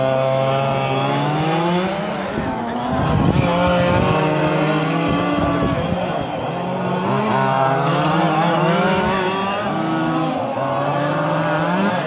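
Gas-powered 1/5 scale RC on-road cars race around a speedway in a 30-minute spec main event, their high buzzing two-stroke engines overlapping and rising and falling in pitch continuously as they lap, loud and sustained.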